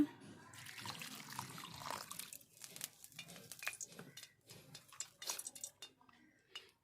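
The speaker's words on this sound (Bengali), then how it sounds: "এবার এখানে আমি জল দিয়ে দেব।" Water is poured into a bowl of chili powder, cumin-coriander powder and chickpeas for a fuchka filling, a close, continuous splashing and trickling with scattered clinks of a spoon and bowl in a kitchen.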